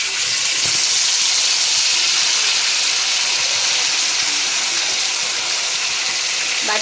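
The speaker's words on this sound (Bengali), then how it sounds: "এখন এই তেলের মধ্যে যে মশলাটা করে রেখেছিলাম সেটাকে ঢেলে দেব।" Spice paste poured into hot oil during cooking of a Bengali rohu fish dish sizzles loudly and continuously, a close, bright hiss with crackling bursts that holds steady throughout.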